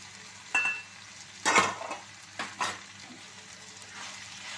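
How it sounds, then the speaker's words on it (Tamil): Capsicum frying with potatoes in a pan gives a soft, steady sizzle. Three or four scraping, clinking stirs of a spoon against the pan break through it at intervals. "இது 1 நிமிஷம் ஃப்ரை பண்ணால் போதும்."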